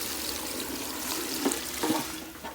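Water pours into an old pot holding walnuts, a steady close splashing rush that swells with a couple of louder sloshes near the end.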